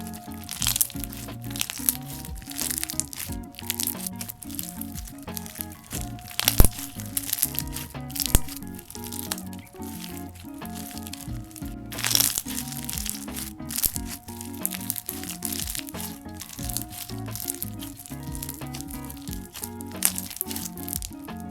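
White tea and ginger scented Pomelo Deiji slime squished and pressed close up, a continuous stream of crinkly, crackling pops and wet crunches.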